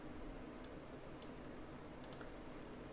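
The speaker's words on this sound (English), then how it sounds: "and I double click it," A computer mouse double-clicked, heard as a few faint, crisp clicks in quick pairs over a low background hum.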